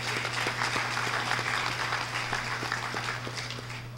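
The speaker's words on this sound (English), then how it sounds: "So let's give them a big round of applause" A crowd at a Philippine economic briefing applauds steadily, a dense wash of clapping at moderate distance with a low hum underneath.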